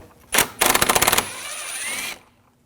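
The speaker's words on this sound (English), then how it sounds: "Now we're going to take these screws out, use a T30 socket." Ratchet clicks rapidly as T30 screws are backed out during serpentine belt work on a 2006-2009 Audi S4 4.2L V8, a sharp burst of close metallic ticking followed by a softer whirring spin before stopping.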